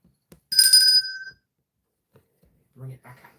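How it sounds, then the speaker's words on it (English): A bell rings once, a bright metallic ting with a brief fade, as a cat knocks it indoors; a person speaks quietly afterward. "Oh, that's the cat Angel. ringing the bell"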